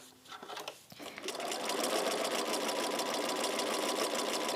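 A sewing machine quilting a layered design with invisible thread, starting up after a few soft bumps and then running at a fast, steady, close buzz without any talk.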